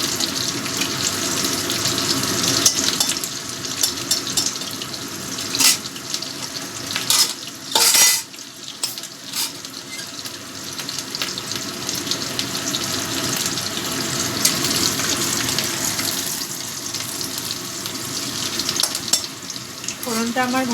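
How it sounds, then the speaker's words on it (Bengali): Whole spice tempering fries in a pan before ash gourd goes in for a prawn ghonto, a continuous close sizzle and hiss with scraping stirs, a brief louder rush partway through, and faint voices at times. "ফোড়নটা একটু ভেজে নেব।"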